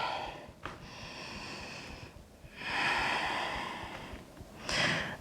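Slow, audible exhalations and breaths during a vinyasa yoga flow, several long airy breaths in sequence, close and fairly soft, with no talk.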